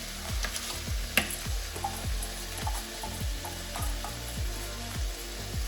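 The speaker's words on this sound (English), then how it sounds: "That's a quick stir." Rice and beans are stirred in a hot pan, giving a run of regular scraping strokes over a soft, steady sizzle, close and moderately quiet, with no talking.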